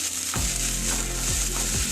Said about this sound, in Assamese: এইখিনি মই অকণমান ভাজি ল'ম।